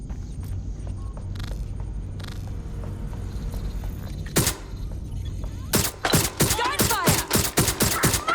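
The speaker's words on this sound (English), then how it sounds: "Gunfire!" Gunfire in Watch Dogs: Legion, a rumbling backdrop with a single shot, then a rapid burst of sharp, loud cracks near the end, with voices faintly heard underneath.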